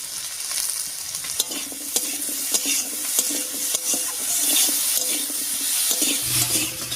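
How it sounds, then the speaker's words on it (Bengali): Pumpkin pieces are stirred with salt and turmeric in a hot pan. Repeated light scraping and ticking from the spatula runs over a continuous close sizzle, with no speech. "লবণ হলুদ দিয়ে খুব ভালো করে মিশিয়ে নিয়েছি"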